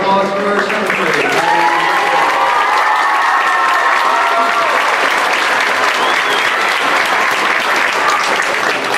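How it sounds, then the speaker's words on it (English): Audience applause at a school awards ceremony, steady dense clapping from a crowd filling the whole stretch, with voices and light cheering mixed in underneath. "One last round of applause for our secretary."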